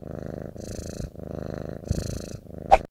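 A two-and-a-half-month-old kitten purrs close up in a rhythmic series of rumbling breaths, ending with a brief higher squeak.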